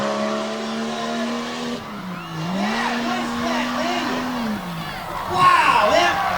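A tough truck racing around a corner at a North vs South event at Front Royal. The engine drones steadily and dips in pitch as it revs through the turn, with a sharper burst of tire or engine noise near the end, under a commentator's voice.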